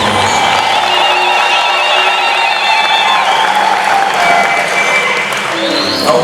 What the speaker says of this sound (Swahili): Makofi na vigelegele.